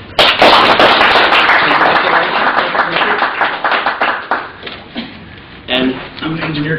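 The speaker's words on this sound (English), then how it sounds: "Okay, applause." Applause at a Las Vegas clinic visit: a dense burst of clapping that starts loud and thins out toward the end, with voices talking underneath.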